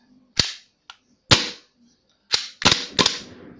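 A Bell 747L-5 Glock 17 ZEV gas blowback airsoft pistol gives a series of sharp, close metallic clacks as its slide is racked, about five crisp snaps spaced irregularly with silence between them.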